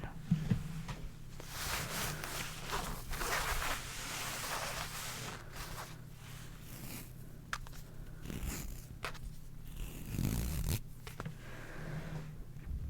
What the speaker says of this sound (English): Some of my favorite ASMR triggers include fabric scratching